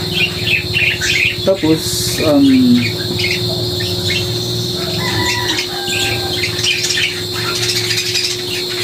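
Pet birds at a breeder's place chirp and tweet in scattered short calls, with a rooster crowing briefly near the start, over a steady electrical hum; a voice speaks a word early on.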